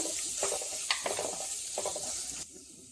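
Spices with garlic stirred in a pan for an egg rasam, with scraping, clinking strokes at an uneven rhythm over a steady sizzle that drops away near the end.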